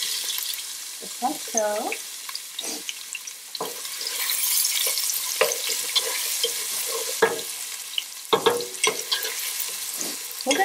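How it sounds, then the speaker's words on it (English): Onions and celery fry in oil with sizzling and stirring clatter, alongside scraping and a few light knocks, while a voice speaks briefly. "I'm going to add my onions and celery in oil."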